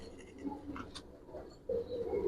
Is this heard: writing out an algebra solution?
no